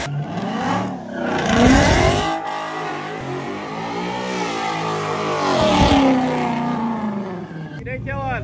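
A Ford Mustang engine revs hard and roars continuously during a burnout at a burnout contest, loud and sustained with rising and falling surges; people talk and shout over it.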